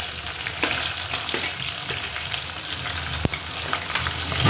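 Cumin, garlic and chillies fry in hot oil, a loud, steady close sizzle with a few spatula scrapes and one sharp knock partway through, no voices.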